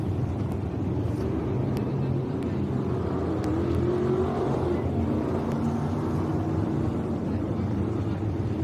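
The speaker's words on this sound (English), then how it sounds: "Dylan Wright comes back out on the racetrack in the 72 car." Race cars roar around a dirt racetrack at Mohave Valley Raceway, a dense, steady engine drone heard from a distance with crowd and track ambience and no clear speech.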